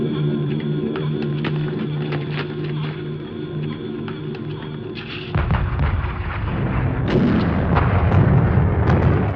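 Explosions from Luftwaffe bombing raids on besieged Tobruk in the North African desert: a rapid stream of sharp blasts and booms at first, then louder, denser rumbling detonations filling the second half, with no talk.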